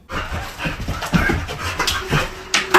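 A dog pants quickly and audibly at close range, a rhythmic run of breathy huffs with small whimpering and movement sounds mixed in, no talk over it.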